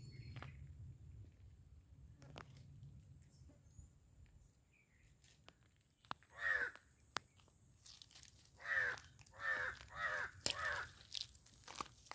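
A crow chick under a mahua tree gives short, hoarse caws, one on its own and then a quick run of several, against a quiet background with faint clicks.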